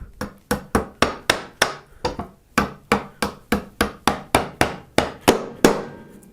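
A hammer drives a wooden dowel through a homemade steel dowel plate made from an old file, about twenty sharp, loud, close blows in a steady rhythm with a brief pause partway through.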